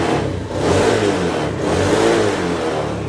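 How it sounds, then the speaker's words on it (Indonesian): The engine of a Honda Beat FI scooter with a fault that makes it die suddenly and sputter revs up close and loud, its throttle blips rising and falling in two or three surges. "Nah oke, motornya hidup ya. Nah kita gas."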